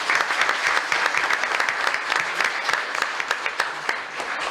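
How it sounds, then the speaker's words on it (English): Applause from an audience at a city commission meeting honoring a high school girl who ran the 400 meters at state: steady, dense clapping from a roomful of people that holds throughout at an even, moderate level. "So give her another round of applause."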